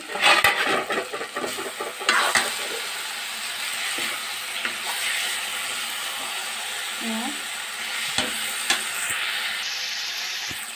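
Tomatoes cook in a pan for a dohi kosu recipe, hissing and sizzling steadily while a utensil scrapes and clatters as they are stirred, loud and close, with the clatter thinning to a constant steamy sizzle.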